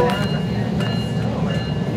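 SMART commuter train rolling out of San Rafael, heard from inside as a steady low rumble with rattling and faint rhythmic clatter; a voice talks over it.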